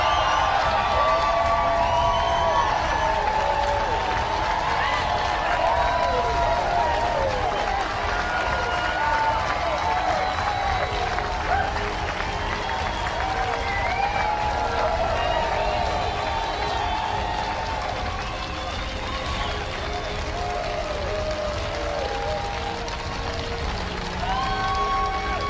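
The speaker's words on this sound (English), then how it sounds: "Give yourselves a round of applause." A crowd at a motivational speech claps and cheers in a sustained round of applause, loud and continuous, with whoops and some voices mixed in throughout.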